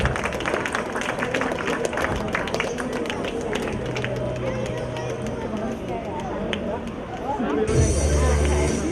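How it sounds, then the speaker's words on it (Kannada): A crowd claps loudly at a Rajyotsava 2024 prize distribution, giving sustained applause mixed with crowd chatter and voices. "ಜೋರಾದ ಚಪ್ಪಾಳೆ"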